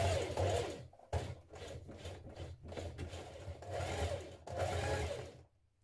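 A sewing machine stitches a ruffle dress seam in bursts of steady mechanical whirring, close and fairly loud, with brief pauses between runs and no talking.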